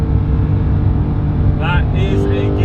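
A 2017 Porsche 991.2 GT3 engine held near 9,000 RPM, a loud steady high-revving drone with a brief shift blip as the gear changes, heard from inside the car over continuous road and wind roar.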